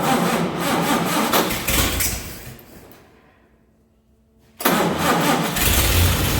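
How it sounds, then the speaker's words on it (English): A 1948 Chevy truck engine that has not run in 30 years, cranked with gasoline dribbled into the carburetor: loud ragged churning and sputtering, a brief near-silent pause, then a strong roar as it catches and keeps running. "I'm just going to dribble gasoline into the carburetor while I'm trying to start and see what happens here."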